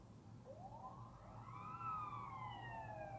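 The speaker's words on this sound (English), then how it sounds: "Sorry about the sirens and stuff." Emergency vehicle sirens wail outdoors, heard from inside, rising and holding in a steady tone, faint and distant but growing slightly louder, with no talking.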